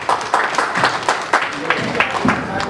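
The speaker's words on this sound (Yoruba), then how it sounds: "Ẹ pàtẹ́wọ́ fún gbogbo ẹgbẹ́ yìí ẹ̀yin ènìyàn." Audience at a 2017 Asa Day cultural event applauding a performing group, scattered hand claps ringing out steadily under a voice speaking over them.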